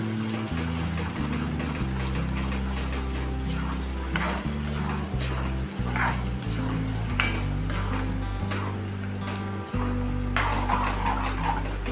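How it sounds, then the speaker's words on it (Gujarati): Cashew curry masala with onion cooks in oil in a pan, sizzling steadily with occasional stirring clatter, while steady low background music plays underneath. "તેલમાં ચડવા દેશું ત્યાં સુધી આપણું તેલ છૂટું ન પડે ત્યાં સુધી ચડવા દેશું તેલમાં."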